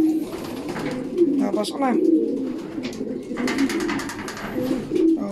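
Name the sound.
racing pigeons cooing at the loft after a training toss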